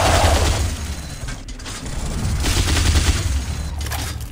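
Dense, continuous video game gunfire from Zombeast, likely a minigun, roaring steadily for several seconds with brief dips before resuming, loud and crowded with clattering mechanical detail.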